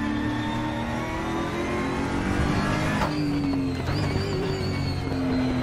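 A car accelerates while driving on a road, its engine droning steadily close up with a gear change and renewed rising revs partway through.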